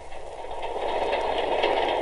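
A toy train chugs along steadily, a continuous close rattling hum with a faint rhythmic pulse, heard alone.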